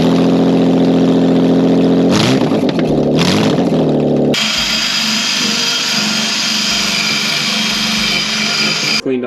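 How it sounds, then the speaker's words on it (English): A car engine running with its exhaust headers removed, a loud raw mechanical roar with a sputtering start, then a steady harsh rumble through most of the clip with no talk. "whenever you take the headers off a car, you need to start it just to make sure you didn't miss anything"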